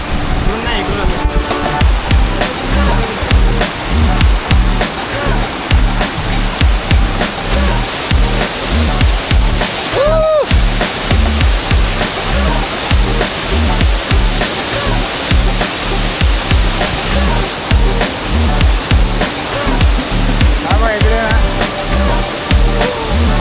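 A natural waterfall in a monsoon forest roars in a steady, loud, dense rush of falling water that goes on without a break.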